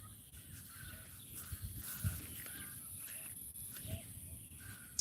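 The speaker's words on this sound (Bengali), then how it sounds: "পশু পাখি পাখির ডাক শোনা যাচ্ছে একটু লক্ষ্য করুন" Faint crows and other birds calling outdoors in a calm, quiet setting, with scattered distant caws over a soft background hush.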